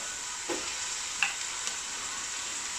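Chopped onion going into a pot of chicken dhansak, making a steady faint sizzle with a few light clinks and stirring scrapes, close by and without talking.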